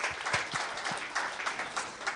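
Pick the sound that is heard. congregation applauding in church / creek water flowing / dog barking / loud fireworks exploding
congregation applauding in church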